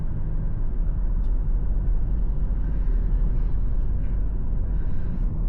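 Heard from inside a Toyota Innova 2.4 diesel with automatic transmission while driving, a continuous low engine and road drone stays steady and moderately loud, with no talking.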